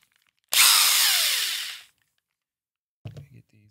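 A power drill spins out a screw from a foot on a Technics 1200 turntable, a loud close whine that winds down over about a second and a half, followed after a pause by faint handling clatter.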